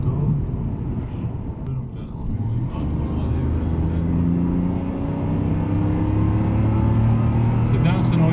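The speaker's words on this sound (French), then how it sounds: "Oui, on entend le moteur, oui, quand on monte dans les tours" Jaguar XJ300 engine climbing through the revs while driving, heard from inside the well-insulated cabin as a low muffled drone with rising tones, with voices talking over it.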